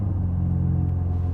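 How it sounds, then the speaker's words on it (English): A Mercedes-AMG GT Black Series with a flat-plane V8 idles just after a push-button start, a steady deep low rumble close up with no voices. "So now the engine is active, the car has started by pulling the button"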